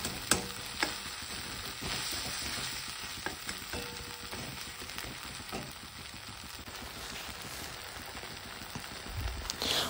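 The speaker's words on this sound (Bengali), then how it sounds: "আদা জিরা বাটা দিয়ে এটাকেও আমি ভালো করে টমেটোর সাথে কষিয়ে নেব" Ginger-cumin paste frying with tomato in a pan for a Bengali fish curry, a dense crackling sizzle like rain on a surface, with scattered spoon scrapes and taps throughout, close and steady.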